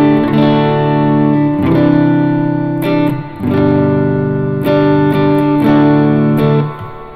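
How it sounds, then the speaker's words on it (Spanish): Clean electric guitar played with an ordinary pick, sounding sustained strummed chords that change every second or so, bright and close with no talking. "Con una púa normal nuestra guitarra suena algo así, como una guitarra eléctrica limpia."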